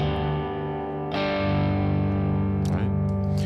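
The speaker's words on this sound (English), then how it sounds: "Let's take the amp's output volume down a little bit first and turn the drive up." An electric guitar runs through an AdrenaLinn III multi-effects pedal with the amp drive turned up, giving a sustained, heavily distorted chord that is struck again partway through, loud and close.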